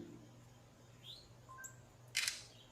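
A smartphone camera fires a single short shutter click near the end, crisp and close, after a quiet stretch of faint outdoor background with a few distant bird chirps.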